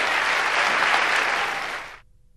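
Audience applause at a live concert show, a dense steady wash of many hands clapping for about two seconds before cutting off sharply into near silence.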